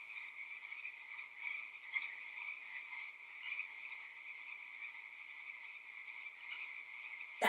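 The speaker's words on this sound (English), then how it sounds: "That's a frog." Frogs croak near a pond in a fast, steady rasping chorus, faint and continuous with a small bump at the end, with no talk.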